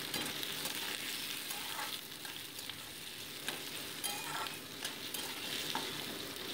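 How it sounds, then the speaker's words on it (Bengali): Potato pieces and chopped green chilli frying in mustard oil, a dense, even sizzle and crackle running throughout with faint stirring scrapes over it; no voices. "তারপরে অ্যাড করে দিচ্ছি কেটে রাখা আলুর টুকরো আর দিয়ে দিচ্ছি কাঁচা লঙ্কা কুচি দিয়ে মোটামুটি এটাকে 2 মিনিট আমি ভালো করে ভেজে নিচ্ছি।"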